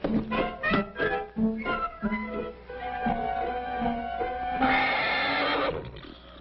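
A horse in a 1938 Western neighs loudly and close by, a long whinny following a few snorts and hoof sounds, with no talk over it.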